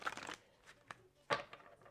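Tarot cards are shuffled in a few quick papery riffles and soft flicks, close by and quiet, with pauses between bursts.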